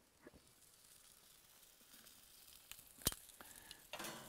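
Tomatoes frying on a gas barbecue hotplate of an Infinity 5 burner grill, a faint steady sizzle with a few soft clicks and scrapes, quiet and without talk.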